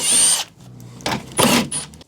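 On an Evo 8 rebuild, a power tool unbolts parts in several short, loud whirring bursts separated by brief pauses, close up with no talk.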